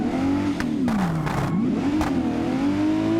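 A Mercedes engine revs hard at full throttle, its pitch sweeping down and climbing again as it accelerates, loud and close with a few sharp bursts of noise layered on top.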